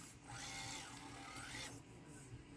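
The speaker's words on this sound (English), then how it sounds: "You really hear that battery tray rubbing." On a small RC crawler truck, the battery tray rubs with a faint, gritty scraping rasp. The scrape swells and eases over a couple of seconds, quiet and close, with no speech.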